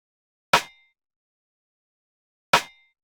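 A snare drum sample hits twice, two seconds apart, each a sharp crisp crack with a short decay, alone in silence.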